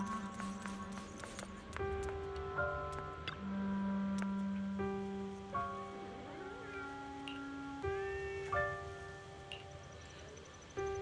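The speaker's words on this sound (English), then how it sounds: "Oh, there's a cat over there." A cat meows in the Zenless Zone Zero video game, a few short cries rising over steady game music and ambient tones at moderate distance.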